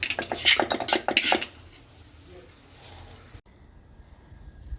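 Cooked rice, boiled potato, boiled pumpkin and dal being served at night with dishes and utensils: a quick run of close clinks and scrapes from plates and cutlery, then quiet room tone.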